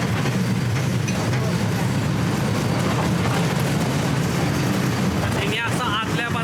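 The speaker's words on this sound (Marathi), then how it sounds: "ट्रेन सुरू झालेली आहे." A train pulls away along its track with a loud, steady rumble and rolling clatter from close by, with a voice talking under the noise near the end.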